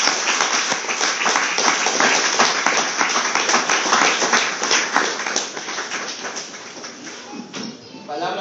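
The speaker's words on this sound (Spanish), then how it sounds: "Dale un aplauso al Señor." A church congregation claps in sustained applause for a few seconds, dense and fairly close, fading slightly toward the end while a voice speaks over it.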